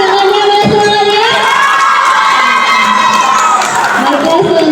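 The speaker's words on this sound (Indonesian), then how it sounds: "Mari tepuk tangannya, mana semuanya?" An audience at a school student council candidate debate cheers and shouts loudly, with high children's voices whooping and crowd noise sustained throughout; applause itself is not distinct under the shouting.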